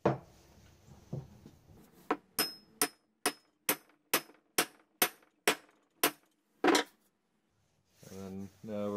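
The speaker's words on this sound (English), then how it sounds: "we're going to hammer the rest on so it's a nice tight fit" Roughly a dozen sharp hammer blows ring out in a quick, even rhythm, close and crisp, driving a bearded hatchet head onto its handle, then a person starts talking.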